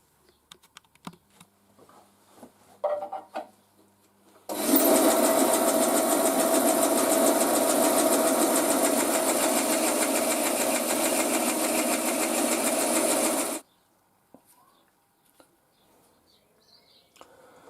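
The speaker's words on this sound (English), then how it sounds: "I'll go carve it out with a bit of plastic with a bandsaw and a knife." A bandsaw cutting nylon plastic for a BSA crank oil feed part, one steady loud buzzing run of about nine seconds with a sharp start and stop, quiet workshop shuffling before and after, no talking.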